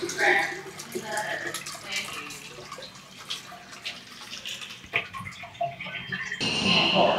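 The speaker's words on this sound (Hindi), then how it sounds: "यहाँ हाथ रखेंगे तब जाके फ्लश होगा।" A Japanese toilet flushes after a hand is placed on its sensor, giving a steady hiss of rushing water close by that swells near the end.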